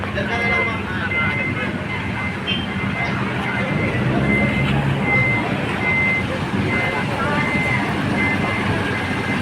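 A garbage truck's engine rumbles steadily nearby on a beach while intermittent reversing beeps sound above it, with people talking over the noise.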